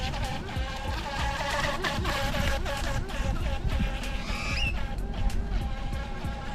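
A Haiboxing Surge X03 mini RC speed boat runs on the water with a buzzing motor whine and splashing, moderately loud and fairly close, with its pitch shifting as it moves.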